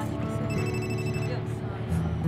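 A telephone bell rings in a Turkish television drama scene, a bright trilling ring repeating in short bursts over a low background hum.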